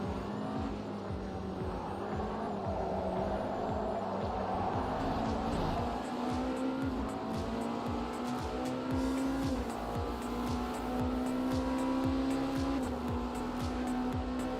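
A race car in a racing video game drives steadily with a sustained engine drone whose pitch rises and falls through gear changes, joined by intermittent tire noise, loud and continuous with no talking.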